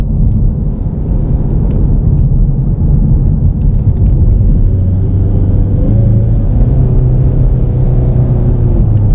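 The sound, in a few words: 2019 Ford Mustang EcoBoost accelerating and upshifting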